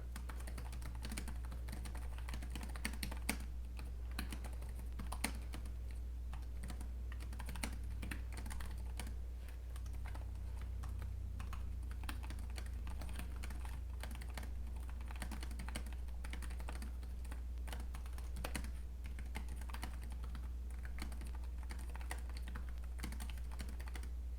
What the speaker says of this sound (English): Let's give a quick typing test here though.